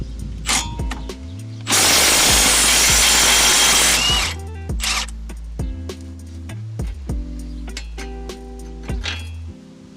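Power tool spinning a 21mm socket to remove the nut from a strut flag bolt on a Ford Five Hundred, a loud continuous burst of about two seconds amid surrounding clinks and handling of tools.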